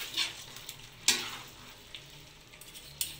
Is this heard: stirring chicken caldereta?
yes